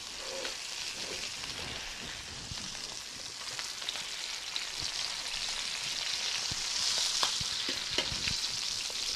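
Porchetta searing in a hot pan gives a steady, crackling sizzle with dense popping spatters throughout, fairly close and alone without speech.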